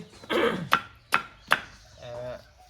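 Radish being chopped into big chunks for pig feed, three sharp knife strikes through the root onto a board at an even pace, close and clear, with softer handling sounds before and after.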